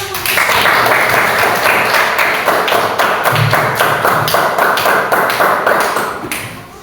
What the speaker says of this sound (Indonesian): silakan duduk kembali dan beri tepuk tangan